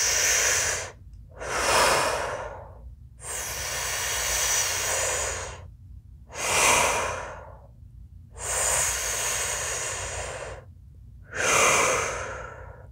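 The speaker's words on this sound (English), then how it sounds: "it's all circular mouth breathing" Circular mouth breathing during a breathwork session, with slow, loud, close-up inhales and exhales alternating in a steady rhythm, six breaths separated by brief silent pauses.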